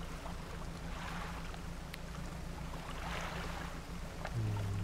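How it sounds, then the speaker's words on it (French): A small boat's engine in the fishing game Dredge chugs steadily over water and wind, a low continuous drone that roughens and grows louder near the end. "Avec mon petit moteur là, ça tousse"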